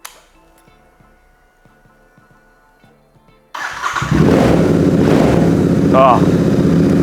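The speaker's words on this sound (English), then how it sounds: "I'm going to start this thing up so you can hear this nice exhaust" Royal Enfield Interceptor motorcycle fitted with a custom exhaust cranks over and fires into a loud, steady idle after a quiet few seconds of faint clinks, with a brief voice partway through.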